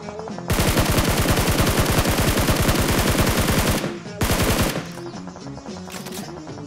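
A Groza assault rifle in a video game fires long fully automatic bursts, a loud rapid stream of shots, a brief pause, then another short burst and fading echoes, with no talking.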